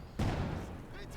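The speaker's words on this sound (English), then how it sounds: "Mortar hit there." A mortar shell hits in Company of Heroes 2, a single sharp, heavy impact that bursts suddenly and then fades into a low rumbling tail.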